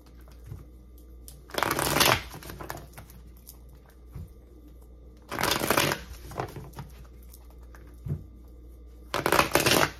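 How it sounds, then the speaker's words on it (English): Tarot cards are shuffled in three quick riffling bursts, close and crisp, separated by quieter pauses with soft card handling. "Card flip for you here."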